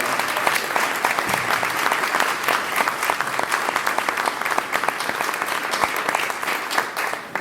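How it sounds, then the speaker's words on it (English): Steady, lively applause from an audience at a 2014 Providence mayoral candidates forum, with many individual claps crackling together at an even loudness for several seconds. "Please give the organizations a round of applause."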